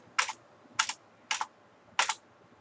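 Computer keys are struck in four separate crisp bursts roughly half a second apart, close and clear against a quiet room, the final press being the Enter key, with no voices.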